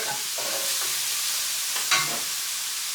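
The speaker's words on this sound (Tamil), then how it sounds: "இதை லைட்டா இந்த மாதிரி கிண்டி விட்டுருங்க, ஸ்டியர் பண்ணிருங்க" Quinoa and mushrooms are stirred in a pan with a steady soft sizzle and gentle scraping. A brief louder scrape or clink comes near the end, and no voices are heard.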